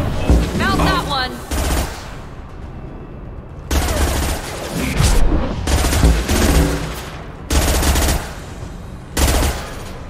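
Bursts of automatic gunfire in Mass Effect 2, several loud rattling volleys separated by short gaps, with a voice calling out between shots.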